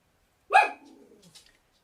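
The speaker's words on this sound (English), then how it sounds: "he continues to bark like this" A single sharp dog bark, loud and close, with a short tail trailing off, alone in an otherwise quiet room.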